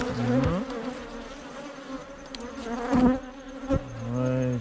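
Honeybees buzzing close by during a spring hive inspection, with several loud individual buzzes sweeping in and out over a softer background hum.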